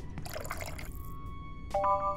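Water fills a cup in the video game Yuppie Psycho: a short burst of splashing, dripping liquid, followed by a brief tonal game chime.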